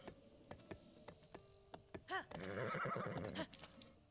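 A horse neighs in The Legend of Zelda: Breath of the Wild, a loud whinny with a descending, trilling call, preceded by light hoof clip-clops and faint ticking game sounds.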